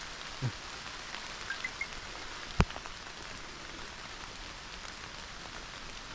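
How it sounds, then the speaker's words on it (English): Steady rain hisses throughout as a broad, even wash of noise, with a couple of faint drips and one sharp click partway through. "then it picks up rain again."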